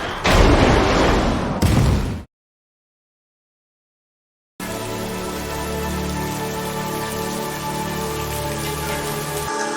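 Rain falling in a Halo series episode: a dense, loud hiss of rain that cuts abruptly to silence, then returns as a steadier, softer patter with low rumbling tones beneath.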